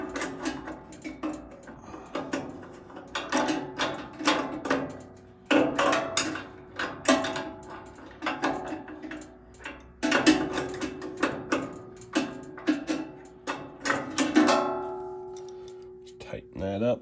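Repeated ratcheting and metallic clicking from a wrench tightening the blade nut on a 14-inch AMT bandsaw in a workshop, coming in bursts of rapid clicks with short pauses, close and fairly quiet.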